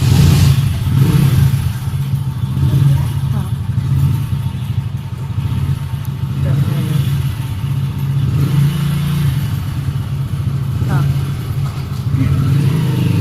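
A car drives along with a steady low engine rumble and road noise, loud and continuous, with faint clatter and a few small knocks in the cabin.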